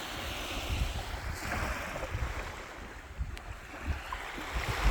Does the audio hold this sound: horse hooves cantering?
no